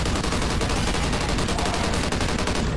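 An automated turret fires a continuous, dense burst of rapid gunfire in Call of Duty: Ghosts Extinction, loud and unbroken throughout with no voices.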